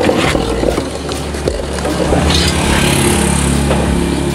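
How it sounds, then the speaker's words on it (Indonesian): A power drill spins continuously while lapping the valves of a Honda Vario scooter engine, giving a steady, loud, close whir with a rough grinding texture that holds for the whole stretch without pause. "Di sini kita gunakan bor ya, seperti biasa."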